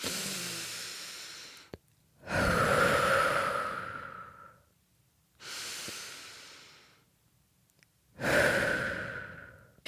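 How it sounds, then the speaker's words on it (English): Three deep breaths drawn in and slowly let out, each long airy inhale-exhale swell separated by short pauses of silence, close and clear with no talking. "take a couple deep breaths"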